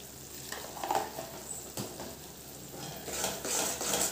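Salt and besan (gram flour) being stirred into hot tempering oil in a pan, a low steady sizzle with scraping spoon and faint utensil clinks, no talking.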